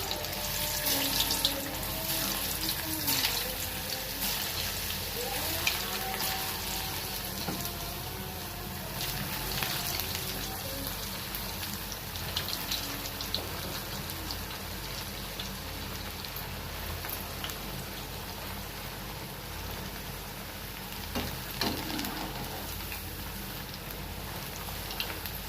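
Potato chips fry in hot oil for an evening snack, making a continuous crackling, rain-like hiss that stays even and fairly soft throughout, with occasional louder pops.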